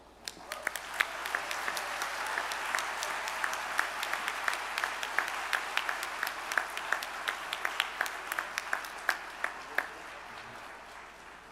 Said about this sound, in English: let me ask you to join me in giving the Brian Sand Quartet a very warm round of applause